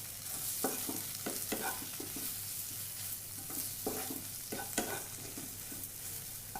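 Spice powders and pepper frying in oil while being stirred for cauliflower kurma, a soft steady sizzle broken by rhythmic spoon scrapes and taps on the pan, quiet and close, no speech.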